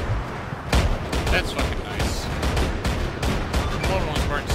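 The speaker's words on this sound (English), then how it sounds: "I just got hit by a cannon." Cannon fire strikes a player in the military game Arma 3, loud repeated booming blasts and gunfire crackling densely throughout while a man swears over radio-style chatter.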